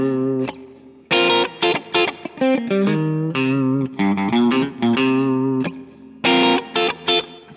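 A clean, funky rhythm guitar tone from an amp with the pickup selector in the middle position, short choppy chord stabs and muted strums in a tight syncopated pattern, loud and close with no voices.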